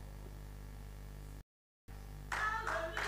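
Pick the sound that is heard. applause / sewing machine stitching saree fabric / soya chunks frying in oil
applause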